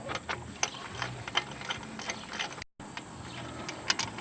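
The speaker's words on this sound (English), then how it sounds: "And now we'll take off the two caliper bolts. They are 17 millimeter sockets." A ratchet with a 17 mm socket works loose the brake caliper bolts on a Trailblazer during a wheel bearing replacement, giving a steady run of close, rapid mechanical clicks with a brief pause near the middle.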